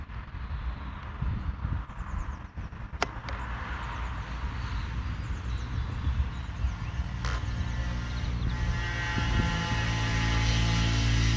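A Max Thrust Riot RC airplane running on a 3S battery flies overhead. Its steady propeller drone and hum swell gradually louder under light wind noise, with no voices.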